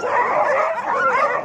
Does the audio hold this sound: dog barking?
yes